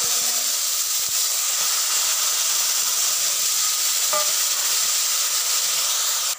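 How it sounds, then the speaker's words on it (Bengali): Grated tomato sizzles steadily in hot oil in a pan while cooking a Bengali potato curry, a continuous loud frying hiss with no talk. "দেখুন বন্ধুরা, টমেটোটা ভালো করে কষানো হচ্ছে।"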